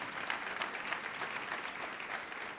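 Steady applause from a church congregation during a sermon, a dense wash of many hands clapping at moderate distance, continuous with no talk over it.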